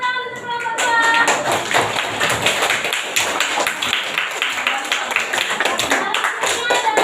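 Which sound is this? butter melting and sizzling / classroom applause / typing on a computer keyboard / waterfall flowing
classroom applause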